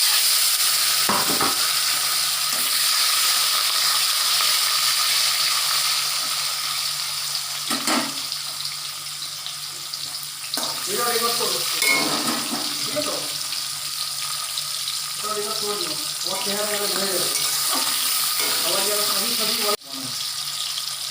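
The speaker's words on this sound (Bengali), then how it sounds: "দিয়ে দেবো জিরে ফোড়ন" Cumin seeds tempering in hot oil in a pan of cooked taro greens, a steady broad sizzle running throughout, loud and close, with occasional stirring clinks and a voice speaking over it partway.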